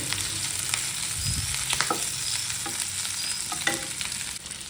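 Capsicum curry sizzles and fries in a generous amount of oil, a steady crackling hiss with occasional stirring scrapes, close and alone.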